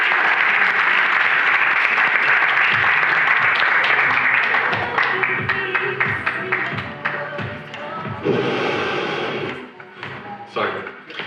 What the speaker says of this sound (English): May I please have a warm round of applause for my Yoda, Miles.